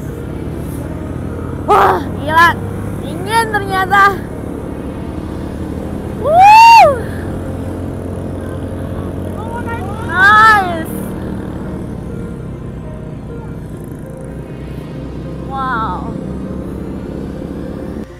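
A motorcycle taxi carries a rider up toward the Bromo summit, its engine a steady low drone beneath a couple of speaking voices, with a few rising whine-like bursts over the ride.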